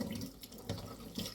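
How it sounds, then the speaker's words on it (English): Hot water running from a tap over a VW fog light grille being rinsed clean, a steady close splashing stream with small surges and no talk. "Rinse it off with a bit of hot water."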